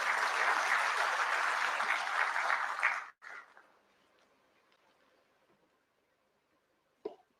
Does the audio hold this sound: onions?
no